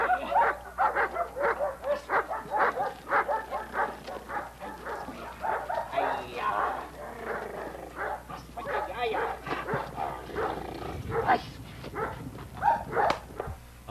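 A narcotics detection dog yips, barks and whimpers in short repeated bursts during a training search, close by, mixed with a handler's encouraging talk throughout.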